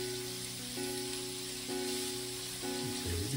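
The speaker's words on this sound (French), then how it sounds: "dans notre casserole, on met de l'huile et on vient mettre nos carottes." Sliced carrots sizzling in hot oil in a saucepan, a steady close hiss with soft stirring and bubbling, accompanied by a faint background hum.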